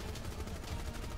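Gunfire in the video game Rainbow Six Siege sounds as a brief, rapid burst of shots lasting just over a second, fairly loud and alone without talk.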